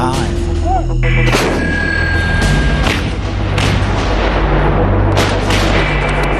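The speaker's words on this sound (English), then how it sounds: "load, and fire the M777." An M777 howitzer fires during a Marine artillery exercise. There are several heavy booming blasts with rolling echoes, loud and close, and faint voices can be heard between the shots.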